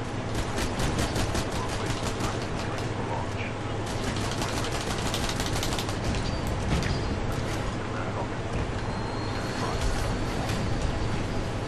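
Gunfire from the video game Titanfall during a fight with an enemy: dense, continuous rapid shots and explosions filling a loud, busy game soundscape.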